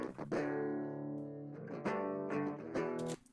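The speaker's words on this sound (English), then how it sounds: "here's what those guitars sound like without any effects." Dry, unprocessed metalcore electric guitars, with no effects applied, play sustained chugging chords and riffs with sharp attacks, close and dense, for a few seconds before cutting off.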